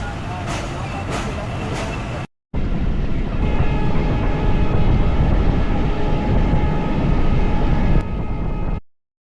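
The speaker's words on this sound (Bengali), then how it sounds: "এখন আমাদের ট্রেনটা ছেড়ে দিল" A passenger train on the Mongla line in Bangladesh runs along after leaving the station, a loud steady rumble and rattle close by that continues for several seconds after a brief break, with voices speaking over it.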